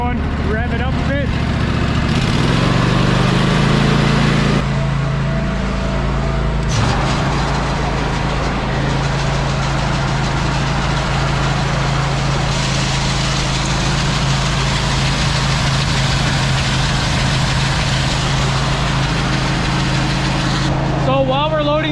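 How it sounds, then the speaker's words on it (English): A grain auger's engine runs steadily for the whole stretch, a loud low droning hum that rises in pitch early on as it is revved, while loading trucks on a farm field. "All right, let's get this auger going, rev it up a bit."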